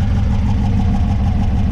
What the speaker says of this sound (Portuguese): Vocês estão vendo o motor da Kombinha